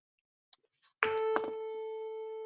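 Telephone ring-back tone before a call is answered, a single steady electronic tone that starts after a few faint clicks and holds to the end, close and clear.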